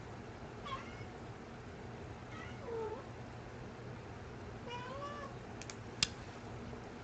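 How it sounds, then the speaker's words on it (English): A kitten meows indoors over a steady hum, giving about three separate faint cries spaced a couple of seconds apart, with a couple of sharp clicks near the end. "Hi, kitten."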